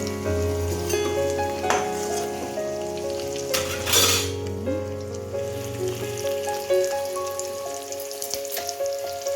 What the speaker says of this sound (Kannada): ಎಣ್ಣೆ ಅರ್ಶಿಣ ಪುಡಿ ಹಾಕಿ ಪ್ರತಿಯೊಂದು ಹುರ್ಕೊಳ್ಳೋದು